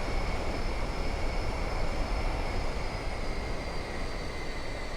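Simulated B-2 Spirit stealth bomber engines in Microsoft Flight Simulator 2024 keep up a constant, close, heavy turbine drone with faint whistling tones over a deep rumble, steady throughout.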